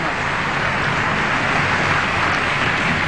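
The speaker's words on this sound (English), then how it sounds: "As the chamber again erupts in applause," Sustained applause fills a congressional chamber before a presidential address, a dense, even wash of many hands clapping that holds steady without pause from start to finish.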